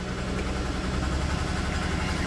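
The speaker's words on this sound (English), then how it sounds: "That misfire is pretty rough though." A Corvette convertible engine idles with a rough misfire, a loud, close, steady rumble with uneven pulsing throbs.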